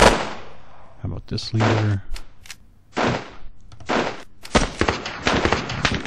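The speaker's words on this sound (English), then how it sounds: "Alright, let's take the scoped rifle. Let's see if we can take out this leader." Scoped rifle shots ring out in a war video game amid a burst of gunfire and explosions, sharp reports scattered across the clip, with someone speaking briefly over the battle.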